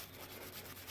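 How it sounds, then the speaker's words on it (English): A wire brush scrubbing a wheel lug, giving a continuous close, harsh bristly rasp with quick back-and-forth strokes and no talk. "I'm just strictly using this wire brush here"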